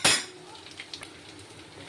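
A utensil scrapes and clinks against a cooking pan as spices and garam masala are stirred, starting with one sharp scrape and then continuing as faint, scattered taps and stirring sounds.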